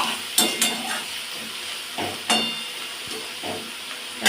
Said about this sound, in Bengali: আর একটু কষে নেব।